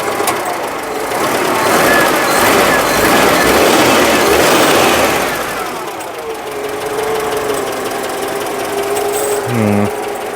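The engine of an old car runs close by with a busy mechanical clatter, swelling as it is revved and then easing back toward a steadier idle.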